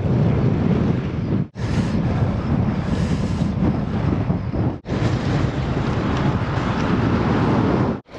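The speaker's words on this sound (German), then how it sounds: "Ja, es geht ordentlicher Wind." Loud, roaring wind on Mont Ventoux near the treeline buffets the microphone continuously, dropping out for two brief moments before rushing back in.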